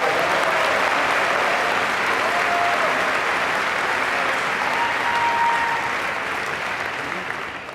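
Sustained applause fills a large graduation ceremony crowd at a business school diploma event, dense and steady throughout before gradually thinning toward the end, with no one speaking over it.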